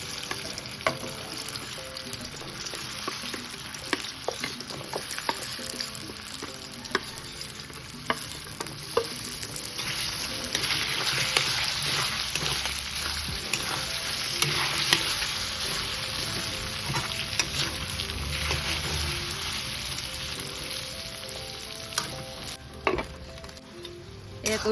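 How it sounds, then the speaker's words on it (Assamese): Potato pieces fry in refined oil for an Assamese vegetarian dish, a dense continuous sizzle with frequent scraping and stirring clicks throughout, close and fairly loud, with no talking. "ৰিফাইনেৰে ভাজিছোঁ। এয়া দি দিছোঁ আলুখিনি।"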